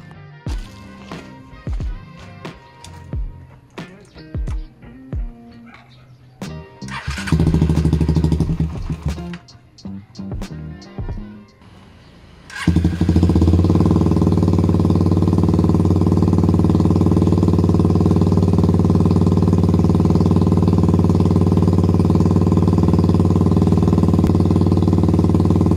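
A Suzuki Raider 150 motorcycle: clicks and scattered handling noises come first, then the engine catches abruptly and runs loud and steady, with a dense rumble that holds to the end.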